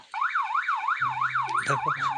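Another police-style siren from an Indonesian-style youth car's horn system: a fast, continuous up-and-down wail cycling steadily, loud and near, with a low engine-like hum and a brief horn-like blare joining partway through.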